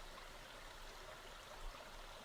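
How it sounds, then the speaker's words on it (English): A small stream of flowing water, faint and continuous, with a soft, even trickle and gurgle that holds steady throughout with no voices. "I'll lead you to the stream."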